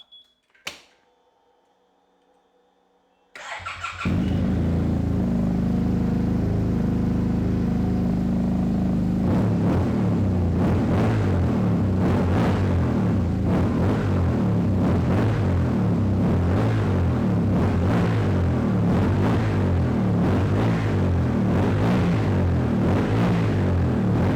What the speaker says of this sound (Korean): 이 차량 아크라포비 머플러의 배기 사운드 한번 들어보고요